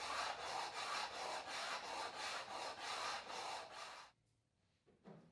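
Sandpaper of 240 grit rubs back and forth over a planed wood surface in quick, regular strokes for about four seconds, then stops, leaving near silence.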